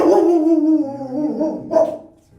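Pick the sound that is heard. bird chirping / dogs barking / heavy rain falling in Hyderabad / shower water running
dogs barking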